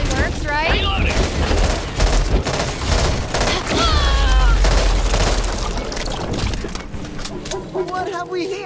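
Rapid gunfire bursts from the Back 4 Blood co-op shooter crackle repeatedly over loud, busy game action, with people talking over the shooting throughout.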